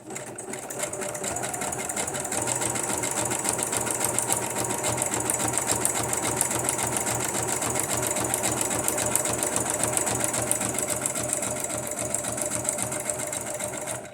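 A sewing machine stitches glued paper scraps for junk journals at a fast, even, continuous whir with a dense mechanical rattle, close and loud with no pauses.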